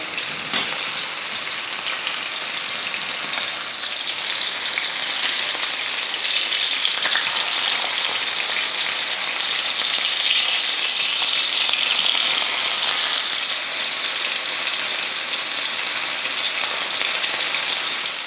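Fish fries in a pan with a loud, continuous sizzle and fine crackle that holds steady for a long stretch, close up and alone.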